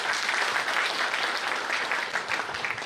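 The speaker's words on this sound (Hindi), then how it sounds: "इस विनम्रता के लिए ताली बजाइए।" An audience at a Ram Navami lecture claps in appreciation, a loud, continuous wash of many hands applauding evenly throughout with no voices on top.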